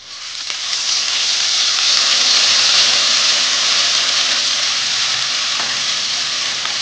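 Ginger garlic paste sizzles in hot oil while being sautéed for rajma masala, a loud, close, continuous hiss that holds steady throughout with no talking over it.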